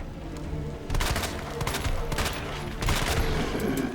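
Gunfire from a shotgun in a video game, loud repeated blasts filling the whole stretch with dense, overlapping shots and a surge of heavier bursts near the start and again toward the end.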